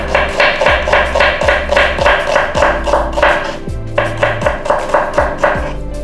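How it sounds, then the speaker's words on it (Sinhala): Kitchen knife chopping onions into small pieces on a board for chicken curry, a steady run of quick, close, crisp taps with brief pauses, over a low background hum and no talking. "ඉස්සෙල්ලාම අපි ලුණු කපා ගමු"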